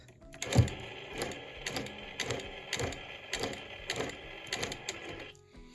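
A sewing machine bastes a quilt top with thick batting, running in a rhythmic chattering series of about eight mechanical bursts, close and distinct, then stopping, no talk.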